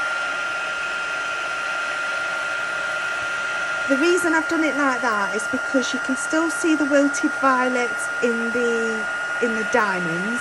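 A hair dryer blows steadily on spray-inked paper for a mini art journal, a constant whirring hum that runs throughout while someone talks over it for most of the stretch.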